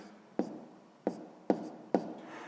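Close, quiet pen strokes on paper while a sixth-grade maths exercise is written out, with four short taps and scratches spaced about half a second apart over a faint hiss.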